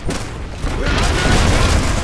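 Gunfire rages through an Iron Harvest battle between Saxony and Usonia, a dense, loud fusillade of rapid shots and booming blasts that swells midway and rolls on continuously.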